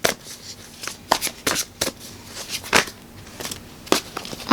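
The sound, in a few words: shuffling tarot cards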